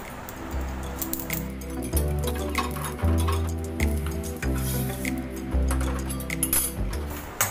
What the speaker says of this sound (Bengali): ওই যে সর্ষেটা ফাটছে ফুটফুট করে, এবার আমি ঢেলে নিচ্ছি।